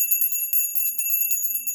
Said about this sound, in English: we're going to be ringing this bell to clear out any negative energies